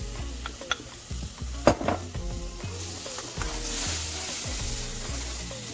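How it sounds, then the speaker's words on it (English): Spinach paste going into a hot pan for fish and spinach curry, a sharp spatula clank then a growing hiss and sizzle with light stirring scrapes, close and fairly soft, with no speech. "it's now time to add the spinach paste, the main hero of this recipe"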